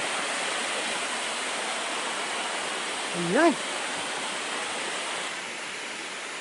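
A waterfall at natural springs in Sta. Maria, Laguna, producing a steady, broad rushing roar of falling water throughout, with a brief spoken word rising over it midway.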